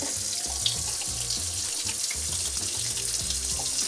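Warm water pours steadily from a tap while hands are scrubbed with a pumice hand cleaner, a close, constant splashing hiss with soft rubbing underneath.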